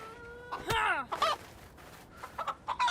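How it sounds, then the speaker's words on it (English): A chicken in DayZ clucks and squawks close by, a few agitated cries with rising and falling pitch followed by shorter clucks, over faint background ambience. "Chicken?"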